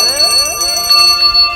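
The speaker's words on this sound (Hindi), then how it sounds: "और जो ही घंटी एकाएक बजी" A bell rings loudly and close, with repeated bright metallic strikes whose shimmering tones overlap and sustain, heard alone without any voice.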